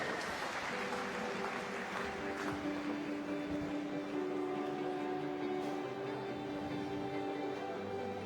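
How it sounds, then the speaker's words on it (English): Steady, dense applause from a crowd in a large venue honoring swimming medalists at a competition final, sustained throughout at an even level with a faint tonal hum underneath. "Ladies and gentlemen, a round of applause for your medalists."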